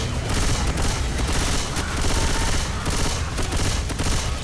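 Rapid bursts of gunfire in the zombie shooter Left 4 Dead 2, loud and nearly continuous for several seconds, with overlapping automatic fire and dense rattling shots and no voices.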